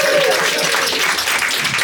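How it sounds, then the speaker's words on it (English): Audience at a comedy show bursts into loud, sustained applause, dense clapping filling the room with no pauses. "Give them a round of applause."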